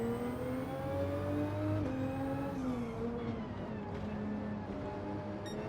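A race car in Gran Turismo 7 at Watkins Glen rolls out of the pit lane, its engine droning steadily with rising and falling pitch, loud and close with no talking.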